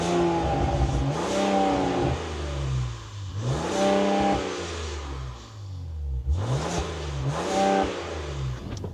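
Ram truck with the Tungsten Hurricane engine revs repeatedly, rising and falling in several loud, close surges over a steady engine drone, with no talking.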